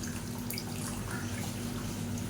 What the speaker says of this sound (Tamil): இப்போ இதில் தேவையான அளவுக்கு புளி தண்ணியும் கரைச்சி ஊற்றிக்கலாம்